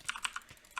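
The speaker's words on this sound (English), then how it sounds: "My keyboard might be loud." Keys on a computer keyboard clack in a quick uneven burst of about five sharp taps, close and clear with no talking over them.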